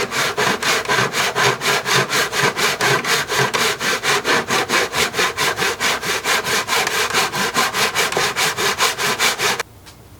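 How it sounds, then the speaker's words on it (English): Steady back-and-forth strokes of a hand saw cutting a wooden knife handle in half in a jig, about thirty even rasping passes close up and alone, stopping abruptly near the end. "Okay, so I've sawed my way through it, and I should now have two pieces here"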